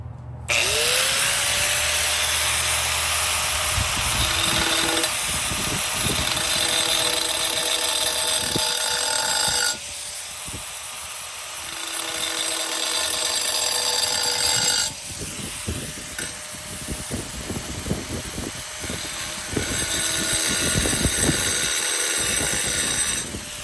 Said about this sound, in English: it's a little better to just use a grinder and mark that